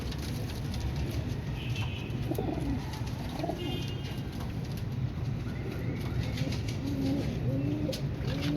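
Kamangar and Kasoori breed pigeons coo softly and repeatedly in a loft, and the low murmuring rises through a constant dense background of rustling and bird noise.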